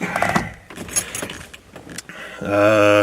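Keys jangle in the ignition of a Ford Bronco, giving a short metallic rattle near the start, then a steady mechanical hum as the ignition switch is worked.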